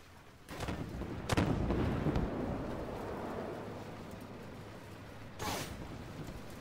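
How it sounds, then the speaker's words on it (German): Tank guns firing in the Armored Warfare video game, a few booming cannon shots with rumbling explosive tails, one near the start, a heavier blast soon after and another several seconds later, over low battlefield rumble. "Schieß doch! Oh, jetzt schießt er auf den M41"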